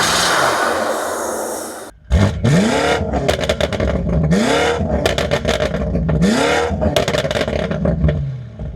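A BMW F90 M5 Competition with front-mount intakes revs repeatedly, sharp throttle blips rising and falling in quick succession, loud and close, with the exhaust note and intake roar alone and no talk.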